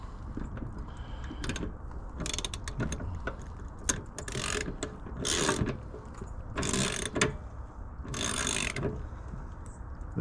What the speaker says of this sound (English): Throw the ratchet on.